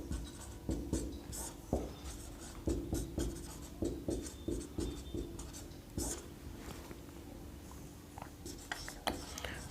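Pen or chalk scratching and tapping in quick, uneven strokes as a maths question on averages is written out, close and moderately loud, with faint speech in the background.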